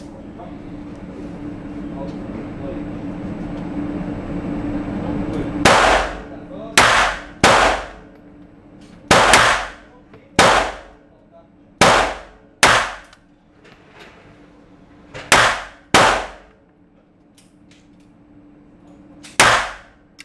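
Five rounds from a 1914 pattern pistol fired at a target 15 metres away, heard as sharp, loud cracks at irregular intervals after a quieter stretch with background voices and outdoor range noise.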